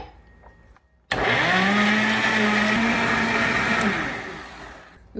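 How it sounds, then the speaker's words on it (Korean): A blender grinds chili seasoning with a cup of water for braised pork back ribs, switching on abruptly and holding a loud, steady whirring drone for about four seconds before winding down. "양념은 이제 곱게 갈아주세요."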